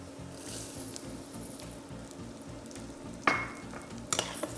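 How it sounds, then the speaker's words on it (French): Rice toasts in a pan with chopped shallot for squid ink risotto, a steady close sizzle with rhythmic stirring scrapes, joined near the end by a few sharper clinks and scrapes of the utensil. "On fait toaster le riz. Ça aussi, il doit devenir chaud."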